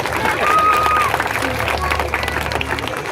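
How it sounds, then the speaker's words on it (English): Crowd applause at a sea lion show at Pleasure Island, dense clapping from a gathered audience with a whistle-like tone and scattered voices mixed in, steady throughout. "Give yourself a big round of applause."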